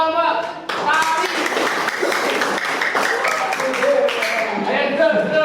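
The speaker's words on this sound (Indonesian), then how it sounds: "tepuk tangan untuk kelompok tari" Students in a classroom clap for a dance group, a brisk crowd of hands close by under excited children's voices and chatter throughout.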